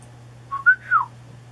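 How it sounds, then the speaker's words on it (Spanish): A woman gives a low, soft whistle made of three short rising and falling notes, heard alone against a quiet steady hum. "Dio un silbido bajo, suave."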